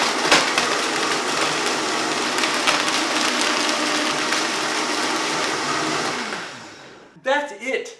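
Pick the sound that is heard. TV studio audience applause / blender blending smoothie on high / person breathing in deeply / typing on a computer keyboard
blender blending smoothie on high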